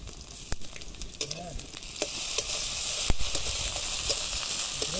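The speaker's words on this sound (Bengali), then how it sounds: "তো আমরা এখন রসুন বাটা দিয়ে দেবো" Garlic paste sizzles in a frying pan with fried onions, green chillies, cardamom and cinnamon, a dense continuous hiss close by with occasional light clicks and scrapes of stirring.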